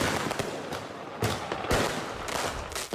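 Fireworks crack and boom repeatedly at varying distances on Oahu, Hawaii, sharp bursts scattered irregularly over a crackling background, with no speech.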